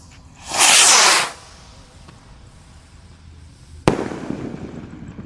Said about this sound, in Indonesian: di sini ada roket jumbo Pluto guys yang akan kita nyalakan. Seberapa tinggi meluncurnya ini kita lihat ya